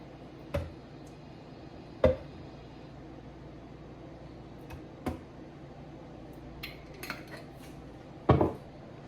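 Sauce from a jar being mixed with a utensil in a bowl: a few sharp, widely spaced clinks and knocks against the dish over a quiet, hushed background.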